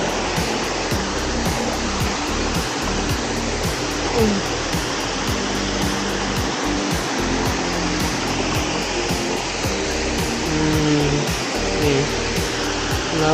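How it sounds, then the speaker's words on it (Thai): Mae Ramoeng waterfall in Thailand roaring steadily up close, a dense, unbroken rush of falling water that stays loud and even throughout. "นี่คือน้ำตกเอ่อ แม่ละเมืองครับ"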